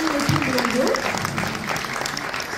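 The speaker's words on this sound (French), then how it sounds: "Donc je vous invite à applaudir Magali Lépine-Blondeau" Festival audience at a film screening in Marrakech bursts into dense, sustained applause, a steady wash of clapping from a full hall with a brief voice audible near the start.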